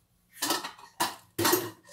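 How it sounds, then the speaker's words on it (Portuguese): A metal pressure cooker is set down on a stovetop with three loud, close clanks in quick succession, with no talk over them. "Deixa eu botar a panela aqui."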